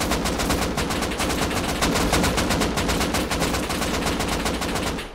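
Rapid automatic gunfire in the video game Rust, a continuous loud burst of closely spaced shots lasting several seconds without pause.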